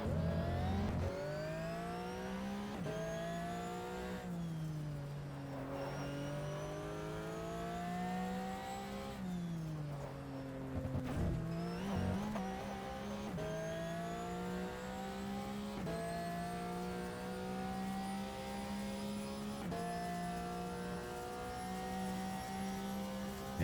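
Race car engine in the GTR racing game, droning steadily with layered harmonic tones that rise and fall as revs climb and gears shift, continuous and close throughout with no voices.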